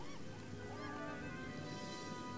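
Seabirds resting on shoreline rocks in the video game Beyond Eyes give honking, goose-like calls over a steady wash of ocean ambience. The calls are faint and somewhat distant, and no one speaks.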